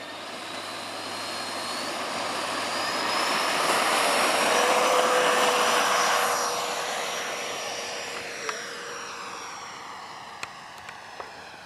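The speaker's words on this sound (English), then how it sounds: "Here we're taxiing out for our maiden takeoff." Twin 70mm electric ducted fans on a Freewing B-2 Spirit RC jet whine steadily while it taxis, the rushing tone swelling louder midway and easing off, with a few sharp clicks near the end.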